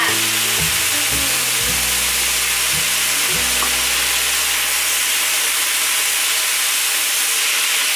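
Seasoning and scrambled egg are stir-fried in a pan, giving a loud, constant sizzle and hiss with a few low knocks from the spatula early on.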